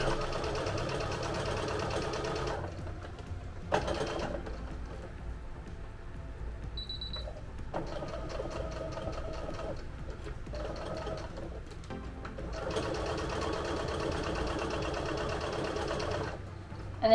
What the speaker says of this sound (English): We're gonna back stitch right here.